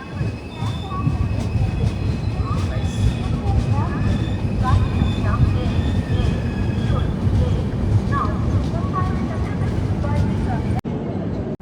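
A loud, steady rumble of a moving train at Pithapuram railway station, wheels clattering continuously on the rails, with voices and station noise mixed in throughout.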